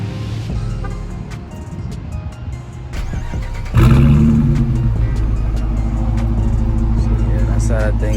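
A 2020 Dodge Charger RT engine cranks and fires midway through, settling into a loud, rumbling idle with a slight rev. Quieter background sounds come before the start.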